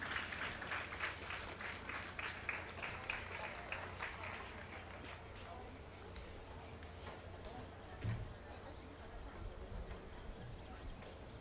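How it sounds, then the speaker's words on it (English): An audience at a school STEAM fair applauds as children arrive, steady clapping for about five seconds that thins into a murmur of crowd noise and voices. "let's give them a round of applause as they come"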